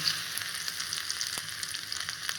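Cashews fry in hot oil with a steady, soft, crackling sizzle and scattered tiny pops, heard close with no talking.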